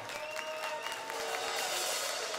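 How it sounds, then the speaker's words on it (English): A crowd at a hardcore punk festival show applauds in a steady wash of clapping, heard from a distance and fairly faint, with a few cheers and a ringing tone from the stage under it. "Big round of applause to everybody involved in the show"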